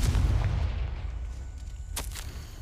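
Confringo blasting spell explosion in Hogwarts Legacy, a deep rumbling boom that fades, followed by a couple of sharp cracks near the end, no talking.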